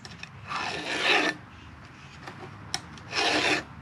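File strokes sharpening a .325 Stihl chainsaw chain with a 0.65 raker guide, two close, rasping scrapes about a second long each, separated by a quieter pause with faint clicks, and no speech.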